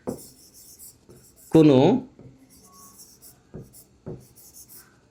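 Marker or chalk strokes on a board during a Bengali lesson on binary complements of negative numbers, soft scratchy writing bursts running under a teacher's speech.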